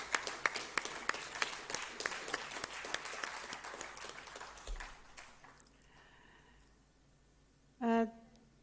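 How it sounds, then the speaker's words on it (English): An audience in a conference hall at an archaeology event applauds steadily for several seconds with dense clapping, then it fades out, followed by a short bright ringing tone near the end. "I think we need to clap first."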